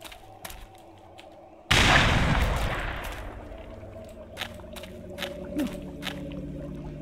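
A grenade explodes in the Black Mesa video game with a sudden loud boom that rolls into a long, fading rumble, followed by scattered smaller clicks and thuds from the game.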